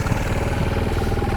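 A motorcycle engine revs as the throttle is opened during a driving-school lesson. The rapid, close engine putter is steady and moderately loud, with no talk over it.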